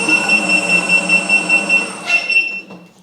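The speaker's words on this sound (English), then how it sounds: "Beeper is extremely loud." A Begode RS19 HS electric unicycle motor spins freely at high speed with a steady whir, while its very loud speed beeper sounds in rapid, evenly spaced high-pitched pulses until the motor winds down.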